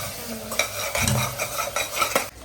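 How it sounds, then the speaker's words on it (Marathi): Green masala paste for a mutton curry cooks in a pan, with a soft sizzle and several quick scraping stirs of a spoon against the pan, close and brief. "आणि आता हिरवा वाटण ऍड केलेला आहे. शिजवून घेणार आहे ना."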